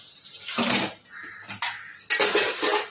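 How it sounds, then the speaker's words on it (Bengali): Dishes, pots and cutlery are washed by hand nearby, with bursts of clattering, scraping and clinking metal and crockery, separated by brief pauses and splashes of water. "বাসনগুলো ধুচ্ছি।"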